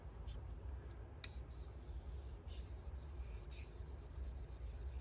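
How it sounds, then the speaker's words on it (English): A knife blade being deburred with light passes on a sharpening stone, soft rasping strokes that come faintly and steadily, with a few sharper scrapes. "Do a couple more burr removal passes on this."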